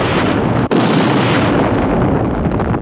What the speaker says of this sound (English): Counting down to another big explosion.